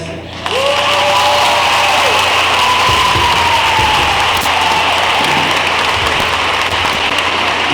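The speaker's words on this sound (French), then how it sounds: "Je vous demande d'applaudir encore plus fort" Thunderous audience applause at a School of Ministry graduation commencement in Haiti, a loud continuous dense clapping that swells in and holds steady, with a voice briefly heard over it at the start.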